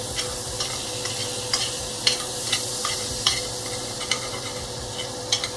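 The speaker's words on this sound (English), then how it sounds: "go ahead and mix these flavors up a little bit" Cajun blackened salmon pasta with lemon juice is stirred in a pan. A soft, steady sizzle runs under repeated scraping taps of a utensil, roughly one every half second, close and fairly quiet.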